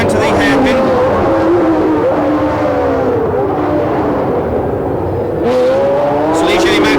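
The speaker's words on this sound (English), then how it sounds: "look at the speed of that Matra engine, going past Jean-Pierre Jarier" Ligier Matra Formula 1 race car from the 1976 US West Grand Prix, its loud engine note sweeping down as it brakes into a hairpin, then rising again, with a commentator talking over it.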